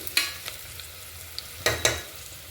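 Onions frying and being stirred in a pan for Telangana-style mutton curry, with a steady sizzle broken by a few sharp scraping stirs, close and alone without talk.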